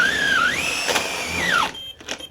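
A Festool TI15 impact drill driver bores a 1/2 inch hole in moist wood, a loud whining motor whose pitch dips and rises under load, then stops abruptly, followed by a few faint clicks.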